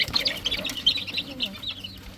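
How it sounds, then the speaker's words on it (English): A flock of chickens clucks and chirps continuously, close by, with overlapping calls and no talking. "That's a whole lot of chickens."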